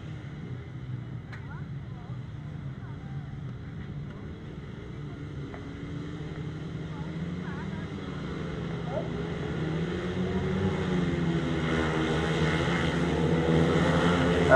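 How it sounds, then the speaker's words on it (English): A field of 500cc racing sidecars idles on the grasstrack start line, their engines droning in a steady mass that swells louder toward the end, with a voice faintly audible in the background. "500cc sidecars on the line now"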